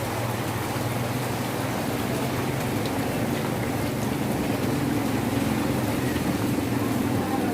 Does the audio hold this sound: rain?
yes